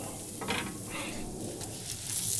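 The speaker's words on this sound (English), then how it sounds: "Still sizzling right there." Prime rib fresh off a Franklin BBQ pit sizzles softly and steadily, with light crackles and a few faint scrapes of metal, heard close up.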